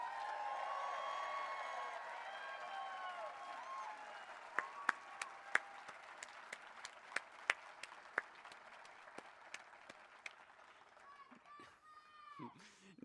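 Applause for the University of New Mexico School of Law class of 2022 at a hooding ceremony fills the hall as steady crowd clapping with a few sharp louder claps, under a faint tonal background and brief noise near the end.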